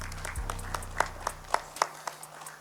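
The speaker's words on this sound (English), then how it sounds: "Give them a big round of applause." Sparse, scattered hand claps ring out in a loose, uneven rhythm, a small group applauding at moderate volume without voices.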